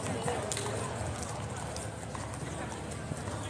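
Horses' hooves clip-clop steadily on pavement at the King's Guard, a continuous nearby rhythm under constant crowd noise and people talking.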